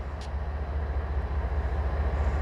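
A freight train hauled by an SD40-2 locomotive departs Needles, giving a steady low rumble at a distance with no voices.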